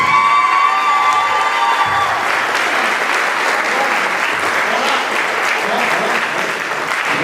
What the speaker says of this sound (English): We were listening to the applause.